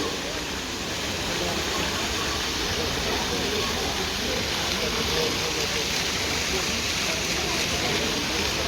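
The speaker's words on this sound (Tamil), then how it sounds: "இங்கேயும் இப்படி தண்ணி பாயுது." Water flowing and splashing steadily at a shop-side spot, a broad continuous rushing wash that stays loud and even throughout with no break.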